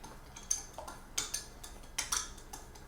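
A spoon clinks against a bowl while a sweet and tangy dipping sauce for rice wraps is stirred. Several sharp, bright taps come at irregular intervals over a quiet background.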